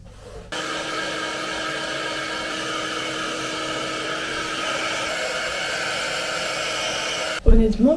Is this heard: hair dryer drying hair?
yes